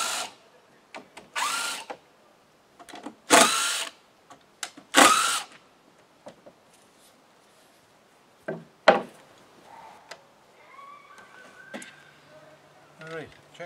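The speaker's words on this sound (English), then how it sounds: "I'm going to take that middle stair tread out so I can get at it with my drill gun" Several short bursts of a power drill used while adding railings to a deck, some close and loud, separated by pauses with knocking and handling noises.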